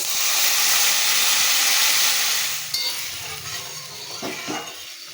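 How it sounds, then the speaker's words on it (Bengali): Fish curry gravy boils hard in a pan, a loud broad steamy hiss and bubbling that eases off midway into softer simmering crackle. "ঝোলটা খুব ভালোভাবে ফুটে গেছে"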